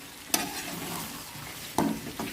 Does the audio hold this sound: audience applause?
no